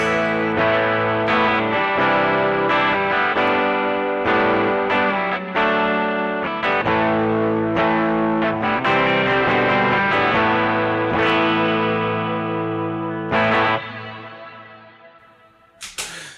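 Electric guitar played through a pedalboard run by a Boss ES8 switcher, with a big modulation effect engaged and no shimmer. Loud, sustained chords and picked notes ring steadily with no talk, then thin out and fade near the end before a final short strum.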